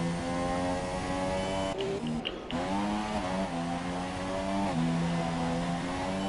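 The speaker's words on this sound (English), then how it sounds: "Will Butler really revving that engine out through turns 2 and 3, aggressive on the traction" A Formula One car engine in the F1 2017 racing game revs hard through a pair of corners, a loud sustained high-pitched whine that dips and climbs with gear shifts, steady and continuous with no talk.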